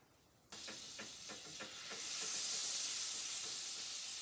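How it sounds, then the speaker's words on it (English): Butter browning, sizzling and crackling in a hot frying pan, a loud steady hiss with scattered pops, no talking. "Next I'm going to brown the butter. Now I tend to use a frying pan for this,"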